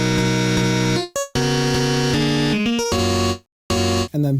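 A heavily saturated, EQ'd synth patch built to mimic guitar power chords plays dense, harmonic-rich sustained chords that shift pitch in short loud bursts, cut by brief gaps near the start and end.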